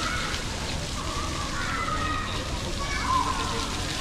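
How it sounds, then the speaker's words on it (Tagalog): Water splashes and sloshes steadily in an indoor fountain at VIVO Mall in Singapore as children play in it, with a continuous wash of spray and busy crowd chatter and voices throughout. "Naglalaro sila sa fountain."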